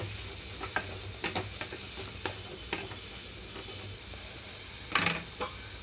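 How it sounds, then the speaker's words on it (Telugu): Ridge gourd pieces, cut about an inch long and unsalted, frying in hot oil in a pan, with a soft continuous sizzle broken by scattered stirring scrapes and one louder clatter near the end. "ఇందులోకి పొట్లకాయ ముక్కలు వేసుకొని వేయించుకుంటున్నానండి"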